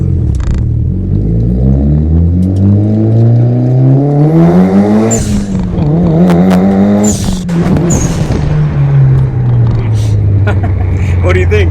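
A Mitsubishi Evo 9 engine on a dyno climbs loudly in pitch, drops briefly at a shift, then climbs again before falling away, with voices briefly heard near the end.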